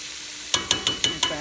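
Cubed steak sears in a hot pan: after a brief quiet moment, six bright, crackling sizzle pulses come in a steady rhythm, close and fairly loud, with no voices.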